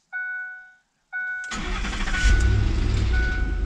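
A car or truck engine cranks over after two short electronic chimes, then catches and settles into a loud, close idle with a deep steady rumble in a desert setting.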